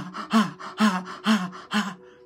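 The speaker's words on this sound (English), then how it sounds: "Breathe out all toxicity in your colon, kidney, liver, pancreas, gallbladder." A deep breathing exercise made of four forceful, rhythmic breaths at close range, evenly spaced about half a second apart, each one a loud rasping huff.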